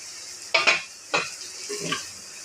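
Fried spices stirred in a pan, a faint sizzle under three distinct scraping clinks of a spoon against the metal.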